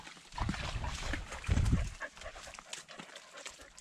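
A dog pants in quick, breathy bursts close by, heaviest in two clusters, with outdoor background noise.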